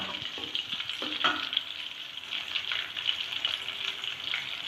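Onions going into hot oil with roasted green chilies, giving a steady bright sizzle and frying hiss with a few soft stirring clinks, close and moderately loud throughout.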